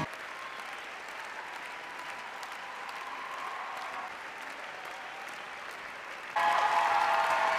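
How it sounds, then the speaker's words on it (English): Applause fills the ballroom at an amateur Latin final of a dance festival, steady and sustained, then jumps suddenly louder toward the end. "the judges are clapping"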